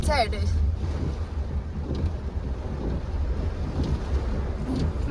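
Strong storm wind with heavy rain buffets loudly and continuously on a road trip to Mumbai, a rough low roar with gusts battering close against the microphone.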